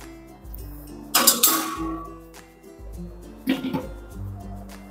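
A lid placed over a wok holding water and a plate for steaming papad, making two short bursts of close metallic clinks and rattles separated by quiet, with a low hum beneath.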